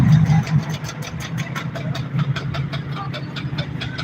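A loud car engine running with a rough, steady rumble and rapid pulsing, close by and without talk.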